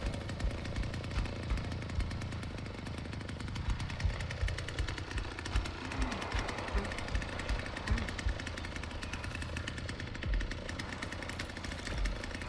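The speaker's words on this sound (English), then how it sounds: "It's so hard to hear over the chainsaw." A chainsaw runs continuously in a Texas Chain Saw Massacre video game, a loud, steady, rattling buzz that fills the whole stretch with no pauses.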